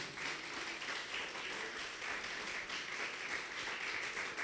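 Steady applause from a large church congregation, sustained clapping at moderate volume without pause.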